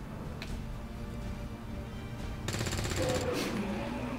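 A shot fired in XCOM 2: War of the Chosen, a sudden loud burst about midway that cuts through quieter ambient game sound and trails off after roughly a second.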